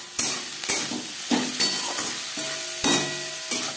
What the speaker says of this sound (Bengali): 2-3 মিনিট পেঁয়াজ ভেজে নেওয়ার পর দিয়ে দেবো হলুদের গুঁড়ো